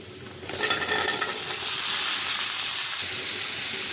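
Sweet pumpkin pieces hit a hot pan of oil with fried onion and five-spice panch phoron, setting off a sudden loud, steady sizzle that hisses on alone for several seconds.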